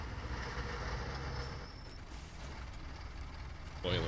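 A train rumbles past in the Snowrunner truck-driving game, a steady low mechanical roll sustained throughout with a brighter clank near the end.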